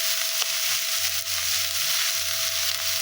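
Onion and green chilli fry in a pan for pasta, giving a steady, close sizzle with soft stirring scrapes throughout.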